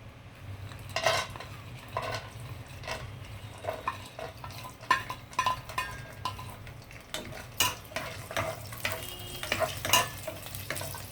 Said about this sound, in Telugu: ఆయిల్ హీట్ అయిన తర్వాత మనం ఇవి వేపేసి పక్కకి తీసేద్దామండి